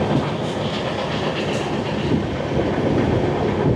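Agartala to Kolkata Garib Rath Express runs through Tripura, its wheels sending a loud, continuous rumble and rhythmic clickety-clack over the rails, heard from on board.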